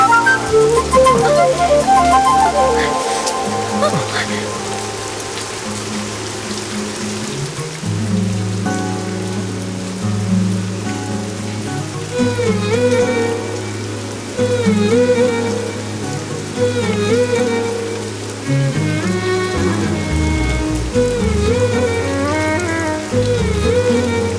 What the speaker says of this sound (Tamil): என்னங்க காத்தடிக்குது, மழை வர போதும்